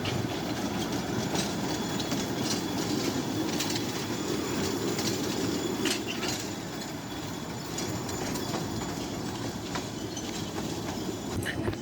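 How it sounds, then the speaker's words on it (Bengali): A mini train at a children's park by the Air Force Museum in Dhaka rolls along with a continuous rumble of wheels on track, faint metallic squeals and clicks, and birds chirping in the background. "এটা মিনি ট্রেন"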